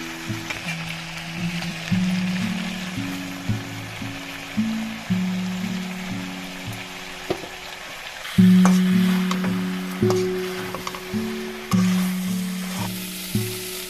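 Chicken and potatoes fry in a pan with a steady, close sizzle, stirred now and then, over a tonal musical background that steps between notes throughout.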